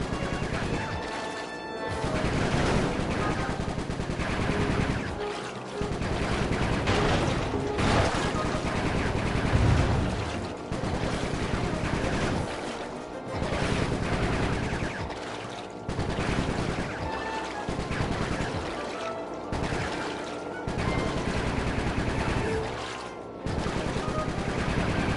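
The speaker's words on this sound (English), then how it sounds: "Shooting, Bentley" Sly 3 video game gunfire, dense bursts of rapid automatic shooting mixed with explosions and crashes, loud and continuous with brief pauses.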